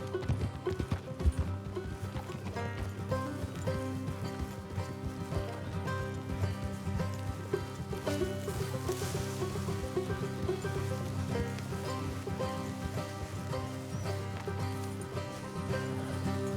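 Hooves clip-clop at a steady trotting rhythm in the video game Red Dead Redemption 2, with an occasional horse snort or whinny over a constant outdoor ambience.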